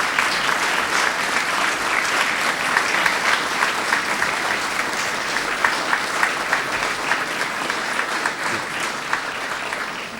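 Steady, vigorous applause from a graduation ceremony audience at UMIST, University of Manchester, a dense wash of many hands clapping continuously for ten seconds.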